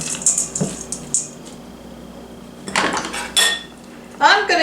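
Crumbled bacon (four pieces) stirred around in a crock pot for a breakfast pizza, giving a few scattered clinks and scrapes of utensil against the pot, with louder clattering bursts near the end.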